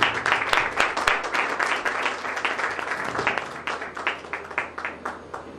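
Modest applause from a gathering at a praise and worship evening greets a reverend's introduction, with individual claps standing out in an uneven rhythm and gradually thinning toward the end.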